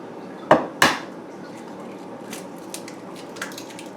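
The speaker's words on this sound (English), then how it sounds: "Now in this bowl, I'm going to crack 2 large eggs." Two sharp cracks of large eggs being broken into a bowl in a home kitchen, the taps about a third of a second apart, followed by quiet room tone with faint small clinks.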